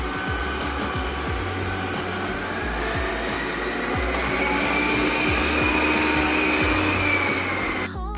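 A robot vacuum cleaner hums steadily nearby in a home kitchen, with a constant motor whine that rises slightly in pitch partway through and faint rhythmic ticking underneath.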